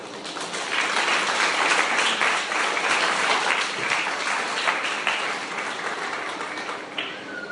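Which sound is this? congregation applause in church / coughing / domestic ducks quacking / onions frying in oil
congregation applause in church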